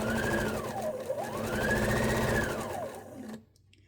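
A sewing machine runs steadily, stitching a seam on a quilt block with a smooth whirring motor hum that rises and dips in pitch, close and loud, then stops abruptly.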